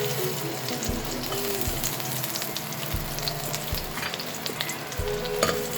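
Ginger fries in a pan for a Cebuano chicken halang-halang dish, a loud, continuous sizzle with occasional dull knocks and scrapes from stirring, close and without talk.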